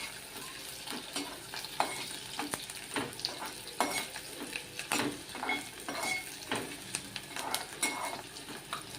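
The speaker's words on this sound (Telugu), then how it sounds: "ఆయిల్ వేయడండి, ఉల్లిగడ్డలు వేసుకుందాం." Onions sizzle in hot oil for a mutton curry, with steady frying crackle and repeated scrapes and taps of a spoon stirring against the pan, fairly quiet and without talk.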